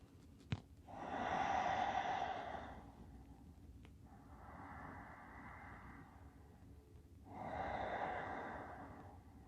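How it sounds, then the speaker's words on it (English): Slow, deep breaths during a yin yoga session, with two long exhales and one softer breath between them, steady and close with a quiet room behind. "Two more breaths."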